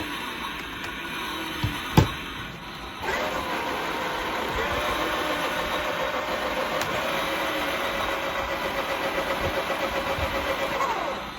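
An RC car motor whirs up after a couple of clicks, then runs steadily through first, second and third gears with a rising, droning pitch, fairly close and continuous; no talking.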